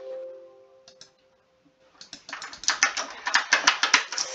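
Fast, close typing on a computer keyboard, a rapid stream of sharp clicks after a short hum and a pause.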